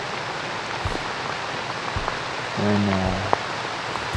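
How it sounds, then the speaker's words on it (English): Hard rain pours down on the Delta hunting grounds during a downpour, a steady dense hiss with scattered drops, briefly joined by a faint voice partway through. "As you can see, it's raining very hard"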